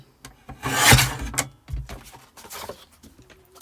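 Craft foam sheet being trimmed to size on a glass mat, heard as a loud rasping, rubbing cut strokes near the mic followed by softer scraping and handling sounds, with no talking.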